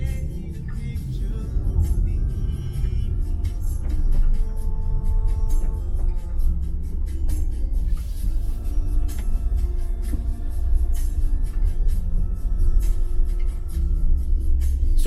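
A Tesla Model Y Standard Range reverses through snow with a low, steady rumble of tires on packed snow, close and continuous, faint creaks and crunches on top, no talk.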